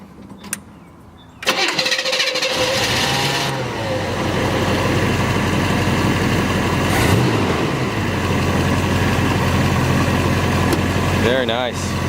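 A 1970 Chevrolet Chevelle SS with its original 396 V8 and chambered exhaust, no mufflers, cranks and fires up, then settles into a loud, rumbling idle with a rev near the end, while people talk faintly over it.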